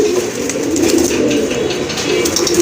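A pigeon at a loft of running-breed birds coos in a continuous, throaty burble, joined by other nearby birds, moderately loud and without speech.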